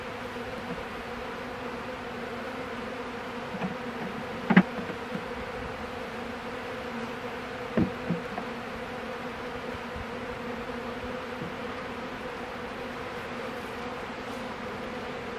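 Honeybees hum in a steady, even drone around hive frames as the frames are shifted, with a few brief knocks and clicks of handling standing out over the low continuous buzz.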